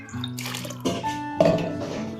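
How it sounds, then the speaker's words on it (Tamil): Water rinsed out of a mixer jar pours into a pressure cooker holding ground masala paste for a broad bean curry, a loud close splashing gush in three short bursts with no talking. "குழம்புக்கு தேவையான தண்ணியை மிக்சி ஜாரை கழுவி ஊற்றிக்குவோம்"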